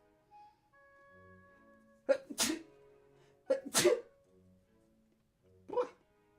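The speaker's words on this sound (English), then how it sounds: "I'm also going to sneeze." Two sharp sneezes in quick succession, followed a couple of seconds later by a smaller third one, close and loud against a quiet room.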